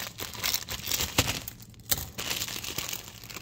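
A ramen packet's plastic bag crinkles and crackles loudly up close in irregular bursts of handling, with sharper snaps now and then.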